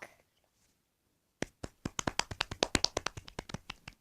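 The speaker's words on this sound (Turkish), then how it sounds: "Ben alkış yaptım." After a pause, a single person claps rapidly, about twenty crisp claps in a quick, slightly uneven rhythm, close and fairly quiet.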